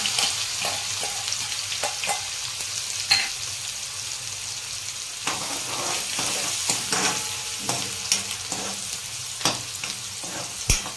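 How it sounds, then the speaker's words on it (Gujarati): Onions frying in hot oil with a pinch of asafoetida, a close, steady sizzle broken by repeated scraping stir strokes and small crackles throughout, with no voices. "ચપટી હિંગ નાખીશું ડુંગળી નાખીશું"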